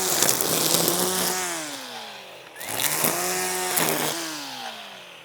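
An Ego 56-volt battery string trimmer revving up and down in two long runs, its whine sliding in pitch as the motor speeds and slows, loud and close with a brief dip between runs.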